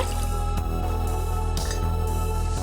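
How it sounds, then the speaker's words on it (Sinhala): Water is poured into a cooking pot in a kitchen while a home remedy is being prepared, giving a short run of dripping, splashing liquid sounds over a steady low hum, with no talking. "මේ විදිහට අපි වතුර ටික භාජනයට දාගන්න"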